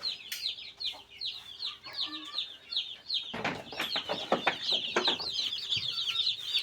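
Young broiler chickens on a poultry farm keep up a dense chorus of high, rapid peeps and chirps close by, joined midway by scattered knocks and shuffling.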